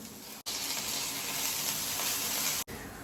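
Chopped chili and onion hit hot oil with a dense, even sizzle that holds steady for about two seconds, framed by abrupt cuts at both ends.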